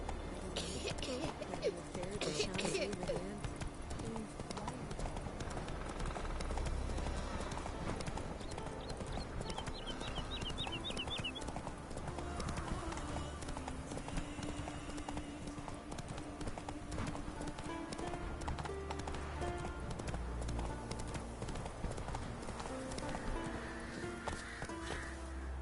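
Horse hooves clip-clop steadily at a trot beneath the in-game soundscape, continuous and fairly close, as Geralt's horse Roach carries on in The Witcher 3, with a voice speaking briefly over it.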